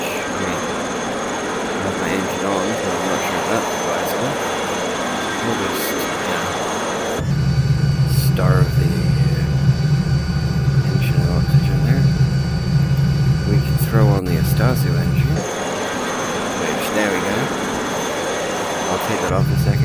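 Alouette III (SA316B) helicopter engine running in Microsoft Flight Simulator: a steady turbine whine and rotor drone that grows louder and deeper midway, then eases back, with someone talking over it.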